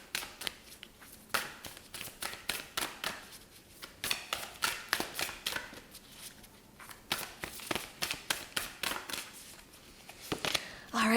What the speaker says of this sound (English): shuffling this next deck over here